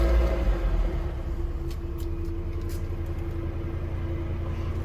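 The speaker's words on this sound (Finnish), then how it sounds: "laitetaan virrat päälle ja auto käyntiin" A Volvo V70 T5 AWD engine fires up and settles into a low, steady idle rumble, recorded fairly quietly from inside the car.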